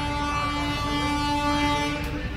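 A train passes a railway level crossing at Narayanpur on the way to Tamluk, with a steady rumble and a sustained horn-like tone throughout, heard from a waiting vehicle nearby with no talk.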